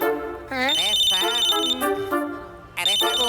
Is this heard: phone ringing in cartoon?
yes